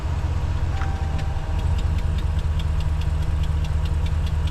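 A 2014 Ram 1500 engine idles with a steady low rumble and a regular ticking rhythm on top, recorded close, with a brief shift of tone as it is put into gear.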